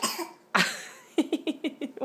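A child at the dinner table lets out a sharp sneeze-cough burst, followed by a quick series of short, rhythmic coughing hiccup-like puffs, close and fairly soft.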